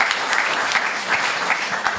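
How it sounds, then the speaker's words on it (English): Warm applause from a crowd at a panel event, steady clapping throughout with no voices over it. "So warm applause for everybody."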